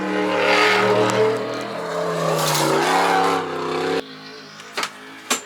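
A car passes with a loud, steady engine roar that bends in pitch as it goes by, then cuts off abruptly, leaving a quieter background with a couple of faint knocks.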